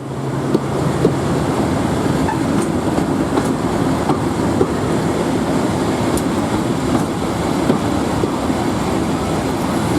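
A heavy train hauled by a Class 52 Western diesel locomotive rumbles past nearby, a constant low engine drone under the steady rattle and clatter of wheels on rails.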